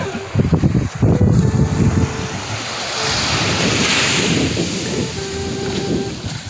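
Ocean surf rolls onto a beach near a river mouth, a steady wash of breaking waves with gusting wind buffeting the microphone.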